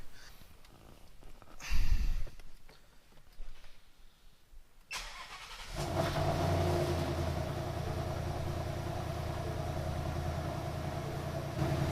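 A Ford Mustang GT engine cranks and catches after a few seconds of shuffling, then settles into a steady, close idle that runs to the end.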